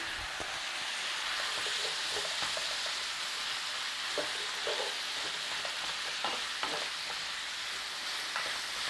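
Chopped carrot and celery fry in a pan for a beef and barley soup, producing a steady dense sizzle with occasional stirring scrapes and clicks of a utensil throughout.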